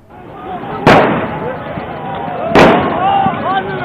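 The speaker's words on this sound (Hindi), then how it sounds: "दो जोरदार गन शॉट सुनाई दिए गए।" Two loud, sharp gunshots ring out about a second and a half apart during a street clash between PTI and PPP political workers, each blast standing out over constant crowd shouting and background noise.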